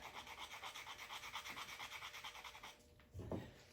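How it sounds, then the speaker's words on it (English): Sandpaper rubs back and forth across a soft slate tile in a quick, steady rasping rhythm, faint and close, then stops with a brief knock. "So slate is a fairly soft tile, and I need to just take a little bit off. I can just use sandpaper to do that."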